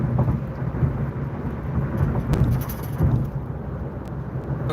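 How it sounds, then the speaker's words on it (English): Steady rain pours throughout during a thunderstorm, with a low rolling rumble of thunder building beneath it and swelling again near the end. "Looks like we're going to get more rain."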